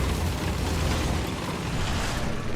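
Bomb blast in War Thunder during a tank battle with early German tanks: a loud, sustained rumbling boom fills the whole moment, heavy low end throughout with no talk.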